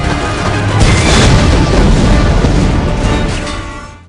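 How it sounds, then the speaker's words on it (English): A massive movie explosion tears apart Blofeld's hideout in Spectre, a loud sustained roaring blast that rumbles and crackles continuously for several seconds before starting to fade. "He shoots that one tank and it blows up Blofeld's entire hideout"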